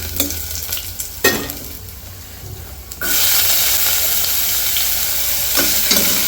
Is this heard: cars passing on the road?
no